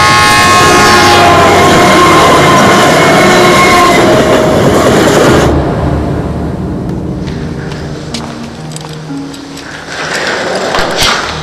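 A train at a railway station, a loud close rumble of rolling cars with bright squealing tones, easing into a quieter station ambience with clicks and a rise at the end.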